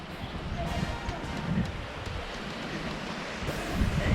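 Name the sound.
wind blowing at the beach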